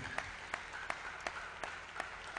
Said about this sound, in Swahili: Acclame encore pour Jésus.